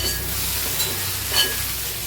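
Plantain and okra frying in a moderate amount of oil in a pan, giving a steady, fairly loud sizzling hiss with faint clinks, with no voices.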